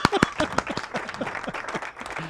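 Applause plays as a sound effect on a talk radio show, a brief burst of clapping from a small crowd that thins out over about two seconds, with voices faintly mixed in.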